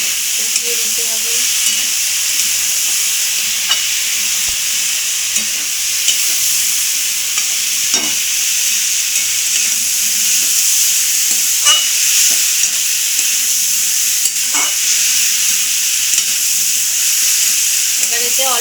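Banana flower curry sizzles steadily in a pan as it is stir-fried with a little sugar, a loud continuous hiss broken by frequent scrapes and taps of the stirring spoon, with no voices.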